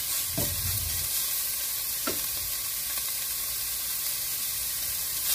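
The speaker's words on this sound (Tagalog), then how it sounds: "Lutuin natin yung ground pork" Ground pork sizzling in a frying pan, a steady close hiss with a couple of brief stirring scrapes, no voices.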